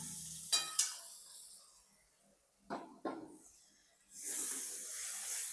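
Grated spice paste goes into hot oil with fried onions for a spicy chicken kosha. A hissing sizzle opens and closes the moment, with a few soft stirring scrapes and clicks in a quieter middle stretch.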